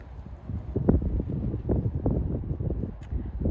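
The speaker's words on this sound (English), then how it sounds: "Nice and windy out here today." Wind gusting outdoors beside a greenhouse on a chilly day, buffeting the microphone in uneven rumbling bursts, with no voices.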